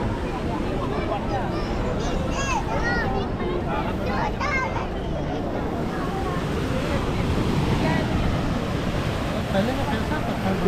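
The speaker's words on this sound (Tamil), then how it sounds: "நல்லா அலை இன்றைக்கி அதிகமாக இருக்குது." Strong sea waves at a Goa beach roar and crash continuously beneath gusting wind buffeting the microphone, with voices faintly mixed into the surf.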